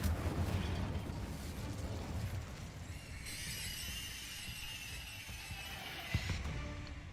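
In the video game Hogwarts Legacy, an Incendio fire spell roars out as a sustained, crackling fiery blast, loud and continuous, shifting into a brighter hissing burn partway through, with a sharp pop near the end.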